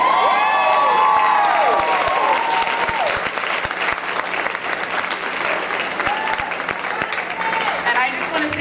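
A crowd at a cheerleader reunion applauds loudly and steadily for a woman's husband, with scattered cheers and a few sharp claps over a dense wash of clapping, while a voice talks briefly near the start.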